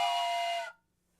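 A bright, tonal steam-train whistle plays as a stream hype-train alert, one steady blast that lasts just over half a second and then cuts off into near silence.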